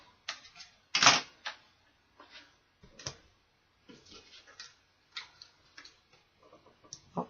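Scissors cut paper embellishments for a Christmas craft card, giving sharp, quiet snips at irregular intervals, one louder cut near the start, with no talk.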